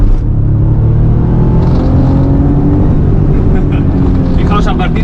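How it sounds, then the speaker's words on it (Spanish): Naturally aspirated engine of a Porsche 911 Carrera Cabriolet (993) revving up through the rpm range, a loud continuous drone with rising tone that fills the whole stretch. "conforme vamos ganando revoluciones, vamos ganando esa sonoridad típica del motor atmosférico de este 911."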